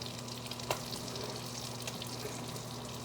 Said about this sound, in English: I'm watching Cobra fry up spam in a pan